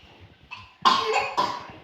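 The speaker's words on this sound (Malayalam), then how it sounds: "ചുമയാണ്" Two sharp, loud coughs in quick succession after a short quiet stretch, the second following closely on the first.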